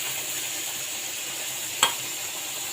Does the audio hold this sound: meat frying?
yes